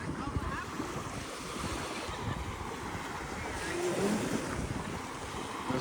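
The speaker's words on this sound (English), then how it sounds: "we're still on a beach here" Ocean surf washing onto a beach on Manasota Key after Hurricane Ian, a steady broad rush of waves mixed with wind noise on the microphone, moderately faint and continuous.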